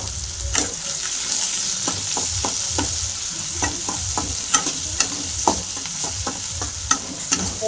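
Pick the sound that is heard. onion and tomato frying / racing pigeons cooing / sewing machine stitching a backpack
onion and tomato frying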